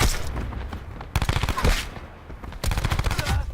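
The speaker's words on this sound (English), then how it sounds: "Even though I fired multiple shots on target" SMG fire in a video game match, short loud automatic bursts with fast repeating shots, a pause, and then another burst.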